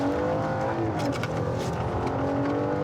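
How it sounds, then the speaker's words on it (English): A green car speeding and doing donuts in a residential area, heard as a continuous loud engine roar with revving, heard from nearby, with no talking. "There's a green car doing donuts behind us."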